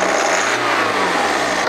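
A BMW G30 520d diesel engine revs up as the accelerator is pressed, giving a loud, steady, close-up roar that climbs in pitch and then holds for under two seconds.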